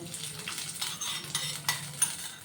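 A spoon scrapes and stirs maida flour halwa in a pan, soft sizzling underneath, with several distinct scraping strokes in a quiet, close setting.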